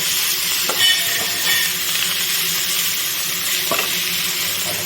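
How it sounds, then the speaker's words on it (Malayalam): Tomatoes and onions sauté in a pan for tomato roast, producing a loud, continuous close-up sizzle with occasional soft scraping or stirring knocks, no voices. "തക്കാളിയും കൂടി നന്നായിട്ട് വഴന്ന് വരണം"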